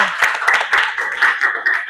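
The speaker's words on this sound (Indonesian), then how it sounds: "Oke, berikan tepuk tangan kepada kelompok 2." Applause for a classroom group: a small crowd claps rapidly and fairly close, a dense patter of hand claps lasting under two seconds.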